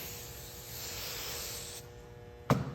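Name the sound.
hairspray being sprayed onto hair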